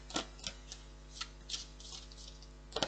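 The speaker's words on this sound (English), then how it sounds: "last shuffle round for Libra" Tarot cards shuffled by hand, heard as a few soft, papery riffling bursts spaced irregularly, faint and close, with no talking.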